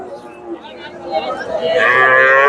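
A cow moos at a cattle market where Sahiwal and Friesian cross heifers are sold, one long rising call close by with market noise behind it.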